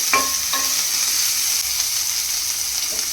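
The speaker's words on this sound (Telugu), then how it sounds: "ఆనియన్ ఫ్రై అయినాయి" Sliced onions frying in a little oil in a covered AMC cookware pan, a close, even sizzle with a couple of light knocks of a utensil early on.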